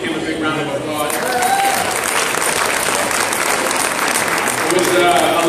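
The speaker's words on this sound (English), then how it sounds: "So let's give him a big round of applause." A crowd at an MLK community breakfast in Pacoima, California gives a sustained, dense round of applause that stays loud and even for the whole stretch, with a few voices mixed in.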